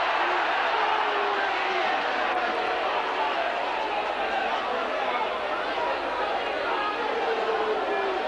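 A Bradford rugby league crowd reacts angrily to a penalty awarded to Warrington, a broad, sustained wash of jeering and chatter from a large stadium audience that holds steady throughout.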